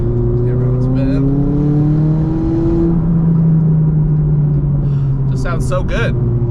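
McLaren 570 sports car engine droning steadily while cruising on winding roads, with smooth rising and falling tones as it revs under load, loud and close from inside the car.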